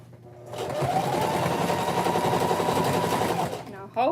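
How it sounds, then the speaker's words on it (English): A sewing machine stitches a girls' skirt in one steady, close whirring run of about three seconds, then stops. A voice speaks briefly afterward. "Okay, and start sewing again."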